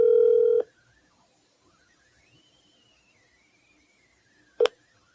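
Touch-tone telephone keypad beeps sound as a call is placed to leave a voicemail: a loud steady dual-tone burst for about half a second, then near silence, then one more short sharp beep near the end.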